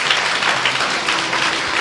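A church congregation claps loudly in unison, a bright, dense, sustained roar of hands at close range that stays level throughout without any speech over it.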